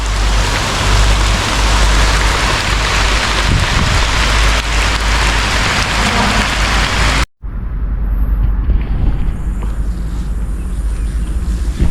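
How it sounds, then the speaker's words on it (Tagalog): Steady rain falling outdoors at a farm, a loud continuous hiss with wind buffeting the microphone, briefly cut off and then resuming. "nabutan ako ng ulan"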